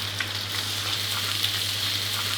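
Macaroni with chicken and egg stir-frying in a hot pan, giving a steady bright sizzle with faint stirring clicks, close and even throughout, no talk.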